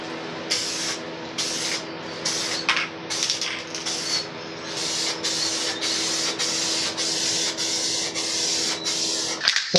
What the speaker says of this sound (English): This sprays on pretty thin compared to the stuff when we were spray painting down south.